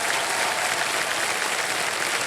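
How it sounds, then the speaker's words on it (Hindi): Studio audience on the Hindi quiz show Kaun Banega Crorepati giving a contestant a dense, even burst of applause that stays loud and steady from start to finish, with no talk over it. "तालियां बज जाए इनके लिए"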